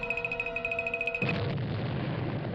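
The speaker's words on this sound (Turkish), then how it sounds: "El Primo patladı." A pulsing electronic tone gives way to a sudden dull boom that settles into a sustained rumbling, noisy roar, a Brawl Stars animation explosion.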